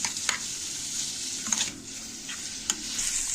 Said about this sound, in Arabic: خلاص كده بقى حمرنا اهي، حمرناها في قلب معلقه الزيت